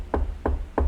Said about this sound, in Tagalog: Meron pa yung Kristo na kumakatok